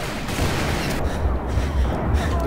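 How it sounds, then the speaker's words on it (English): An explosion and gunfire in the Western shooter Call of Juarez: Bound in Blood during a prison break, forming a loud, dense, continuous roar of blasts and rumbling debris that fills the scene. "Oh, the explosion, dude."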